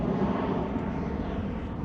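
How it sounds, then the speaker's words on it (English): A large airplane flies overhead near an airport outside Wellington, its broad, steady engine roar filling the whole stretch at fairly close range with no talk over it. "There goes a giant plane."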